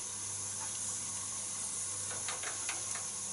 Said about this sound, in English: I'm wondering if that safety valve is blowing off too early.